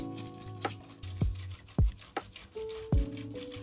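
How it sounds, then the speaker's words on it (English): An old toothbrush scrubs a plastic gouache paint case during washing, giving short scratchy strokes at irregular intervals, interspersed with low knocks and faint watery tones, no voices. "You can also use an old toothbrush."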